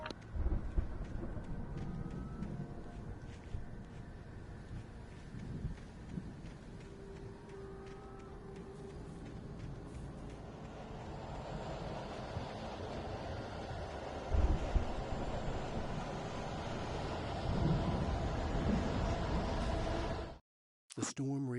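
A raging storm in Alan Wake Remastered, with low rolling thunder and gusting wind building into a broad roar, a sharp thump near the middle, before cutting out abruptly near the end.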